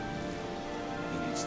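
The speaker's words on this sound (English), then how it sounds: "We're going to be getting so much rain." Steady rain pours across the surface in Skyrim during a hardcore survival-mode playthrough, a continuous even hiss filling the whole moment with no voices.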